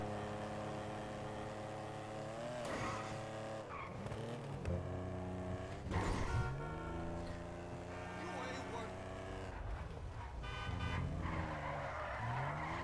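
A car in the GTA Online game drives and skids, its engine droning steadily with brief tire squeals under continuous talk and background music.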